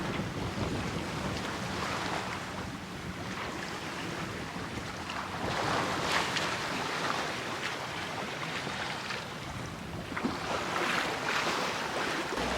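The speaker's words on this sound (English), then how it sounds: "We are doing our last nautical mile to enter in the marina in Cartagena" A sailboat under way on its final approach to the marina at Cartagena after stormy days, with steady broadband water rush and wind buffeting on the microphone throughout, fairly loud and continuous, no talk.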